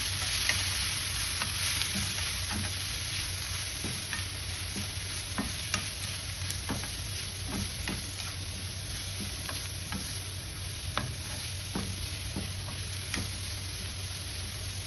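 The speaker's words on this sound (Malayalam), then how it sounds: "നമ്മൾ ഗ്രേറ്റ് ചെയ്ത ബീട്രൂട്ട് ഇതിലേക്ക് കൊടുക്കാം. ഇളക്കി കൊടുക്കാം." Grated beetroot being stirred in a hot pan, a continuous close frying sizzle under a low background hum, broken by regular scraping strokes of the spoon.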